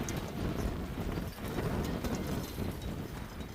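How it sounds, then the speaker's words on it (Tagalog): Gusty wind buffets the microphone with a low, rumbling roar that rises and falls, steady throughout and fairly close. "Naririnig niyo yung ano ng lakas ng hangin."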